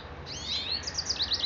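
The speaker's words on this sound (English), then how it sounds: "You'll hear birds singing in the background, goldfinches" Goldfinches sing in a spring backyard, a run of high, bright chirps and twittering notes that grows busier toward the end, moderately close over a soft outdoor hush.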